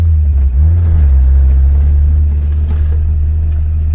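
Toyota Hilux engine rumbling and revving through an old aftermarket performance muffler, a loud, close, deep steady exhaust drone with slight swells.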